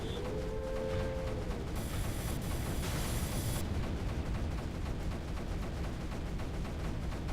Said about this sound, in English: Oh, that cannon doing so much damage to that creep, it's beautiful.